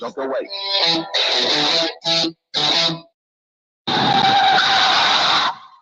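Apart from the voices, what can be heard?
car skidding and crashing sound effect in radio ad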